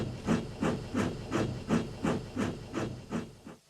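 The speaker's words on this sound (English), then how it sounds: "And Charlie puffed away." A steam locomotive chuffs in a steady rhythm, about eight even puffs of hissing exhaust, close and moderately loud, then stops abruptly.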